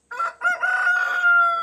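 A free-range homestead rooster crows loudly and close by, a clear drawn-out cock-a-doodle-doo with a couple of short opening notes before the long sustained final call.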